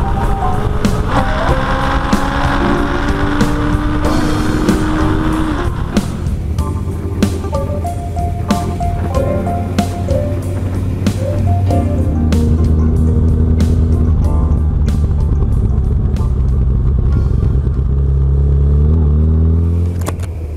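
A 2008 Kawasaki Concours 14 motorcycle rides up a road in Colorado on Pirelli Angel Demon tires, its engine a steady, loud drone throughout, with pitch shifting as it accelerates and changes gear.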